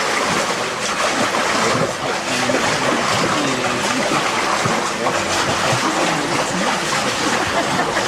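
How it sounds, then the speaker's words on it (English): A swimmer doing freestyle strokes in an Endless Pool, with continuous splashing and churning water close by, steady and loud, and faint voices underneath. "Go ahead and swim in this and do freestyle again"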